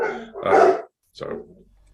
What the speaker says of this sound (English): we hear the dogs barking in the background